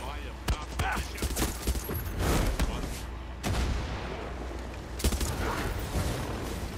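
Gunfire rattles through a Far Cry 6 firefight in the Joseph: Collapse expansion, with loud bursts and booms followed by rumbling pauses, and a player's voice heard over it.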